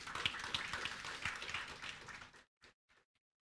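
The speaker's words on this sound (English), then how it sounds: "That clap offering is for the Lord" A church congregation claps together as an offering, a dense burst of applause lasting about two seconds before fading into a few scattered final claps.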